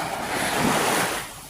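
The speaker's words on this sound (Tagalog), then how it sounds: "ganito yung dagat dito sa amin" Rough sea waves wash onto a beach during the habagat monsoon, a broad steady roar of surf swelling and easing, with wind buffeting the microphone.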